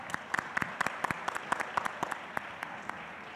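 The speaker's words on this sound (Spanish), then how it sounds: "Un fuerte aplauso para Paul" A small conference audience applauds, with scattered distinct claps standing out over a steady patter of hands, close by and moderately loud.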